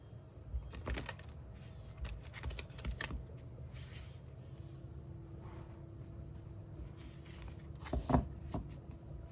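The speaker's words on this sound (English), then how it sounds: "And do some shuffling first," Soft, intermittent riffling and tapping of tarot cards being shuffled in short bursts, close and quiet, with brief pauses between.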